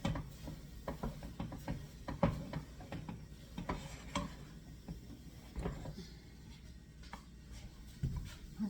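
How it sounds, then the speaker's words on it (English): Mashed potatoes stirred in a pot, a quiet series of irregular clicking, scraping knocks from the spoon against the pot, with no talking. "Do stir your potatoes, or they'll burn on the bottom."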